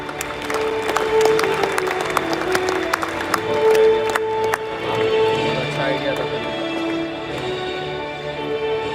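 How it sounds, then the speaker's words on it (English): An audience at a badminton championship press conference claps steadily, a crowd of hands filling the room at moderate volume, with a presenter talking over the applause. "A big clap for him."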